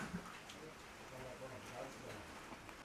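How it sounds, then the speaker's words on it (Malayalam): Steady, faint rain hisses outside a toddy shop in Kuttanad, Alappuzha, a continuous low wash of falling drops with a soft murmur of voices beneath it. "നല്ല മഴ പെയ്യുന്നുണ്ട്."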